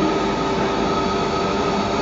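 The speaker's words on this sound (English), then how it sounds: "And here we see this engine running around its train." Rack railway locomotive near Interlaken, Switzerland, running around its train before heading to Lucerne; a steady, loud mechanical rumble with a sustained hum, continuous throughout with no voices.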